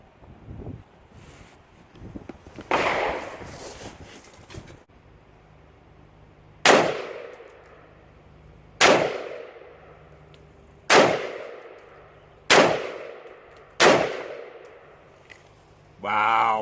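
An SKS rifle fitted with a Magwedge KwikRail fires five sharp, loud shots spaced a couple of seconds apart, each followed by a decaying ring, after some earlier rustling and wind.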